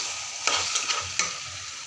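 Olive pickle ingredients frying in hot oil: a dense, close sizzle with a few quick scraping stir strokes cutting through it.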